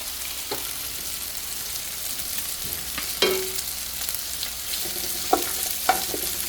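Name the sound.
sautéing food in a pan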